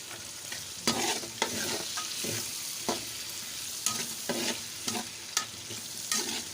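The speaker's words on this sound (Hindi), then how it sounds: "इसको इसके अंदर डाल के अच्छी तरह से भून लेंगे।" Chicken frying in a pot with onion, tomato and green chilies, a soft sizzle broken by several sharp spoon scrapes and clacks against the pan, close and quiet, no talk.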